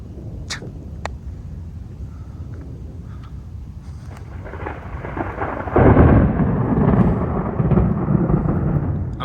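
Thunderstorm in Houston, Texas: low rolling thunder rumbles over steady rain, building into a loud, close crash of thunder midway that keeps roaring with heavy downpour to the end.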